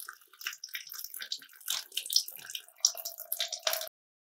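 Coolant pouring out of a four-stroke motorcycle radiator after the drain screw is removed, a close, fairly quiet splashing trickle with gurgles that stops abruptly.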